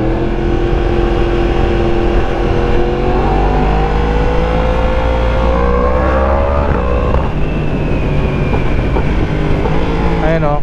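Superbike with quick shifter and auto blipper revving and accelerating, loud engine whine climbing in pitch through gear changes without pauses, close and dominant, with people talking briefly underneath.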